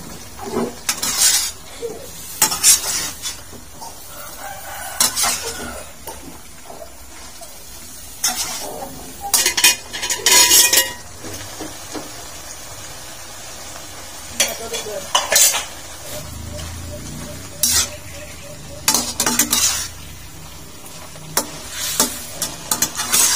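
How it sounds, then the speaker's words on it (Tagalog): Fern vegetables (pako) cook in a pan, with loud stirring scrapes and clanks coming in repeated bursts over a low ongoing sizzle, and no voices. "Haluin at para maluto."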